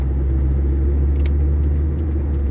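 A Mitsubishi Eclipse RS with a 420A engine drones steadily from inside the cabin on the way onto the interstate, a constant low rumble with faint rattles and no talk.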